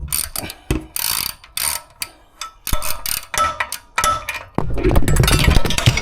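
A ratchet tightens bolts on a Coleman B200 stove in quick, irregular bursts of close, sharp clicking, with brief pauses between runs and a denser, noisier stretch at the end.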